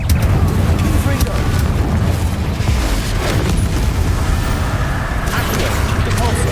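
Confringo blasting curse explosions and spell combat in Hogwarts Legacy, a dense, loud roar of booming blasts and rumble that runs continuously, with game voices mixed in.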